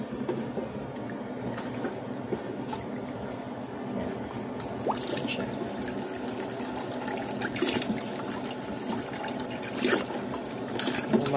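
Water pours and trickles steadily into a dirty aquarium, a continuous splashing wash with small gurgles and drips.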